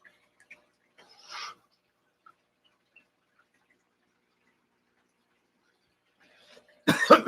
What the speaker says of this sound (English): I still cough